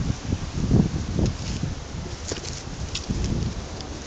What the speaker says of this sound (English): Windy, isn't it, Chippy?